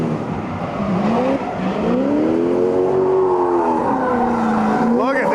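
A bumperless drift car slides at a grassroots drifting event in the Midwest, its engine swooping up and down in long revving arcs with tire noise, loud and close, while someone talks over it.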